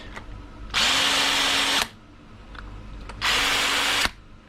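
An Ingersoll Rand IQ V20 W7000 Series W7150 1/2-inch cordless impact gun, just fitted with a new switch, runs in two loud, close bursts of steady motor whir, the first about a second long and the second slightly shorter, with a quiet pause between.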